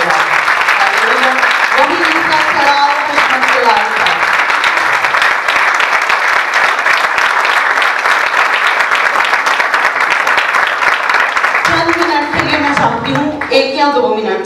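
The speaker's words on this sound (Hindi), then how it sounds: "तालियां मेरे लिए बजाइए" Church congregation at a Sunday sermon breaking into sustained applause, a loud, dense wall of clapping that runs throughout, with a voice talking over it near the start and again toward the end.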